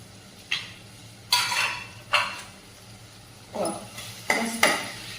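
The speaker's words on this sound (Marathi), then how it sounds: "आणि आता व्यवस्थित असं परतून घेऊया आपण त्यावर झाकण ठेवूया आपला टमॅटो परतलाय की नाही" A spatula scrapes and clanks against a pan of sautéing onion and tomato in a home kitchen: about six separate stirring strokes spaced irregularly, each a short metallic scrape over quiet background, with no voices.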